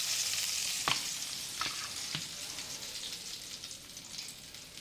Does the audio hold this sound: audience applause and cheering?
no